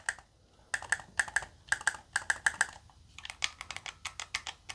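Bump buttons on a Backbone One phone game controller are clicked repeatedly, producing close, crisp plastic clicks in quick uneven clusters, like light keyboard tapping, with no talking.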